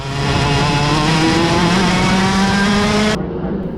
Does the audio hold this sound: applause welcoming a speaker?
no